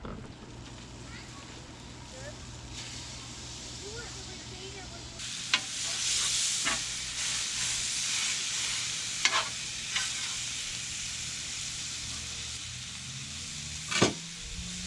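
Steak fries in a pan for dinner, a soft steady sizzle that stays fairly faint while a few clinks and stirring knocks sound and people talk nearby.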